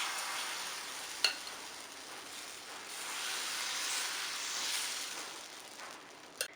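Semolina dosa batter sizzling on a hot oiled tawa, a steady soft frying hiss that swells and fades, with a couple of faint clicks and no talk.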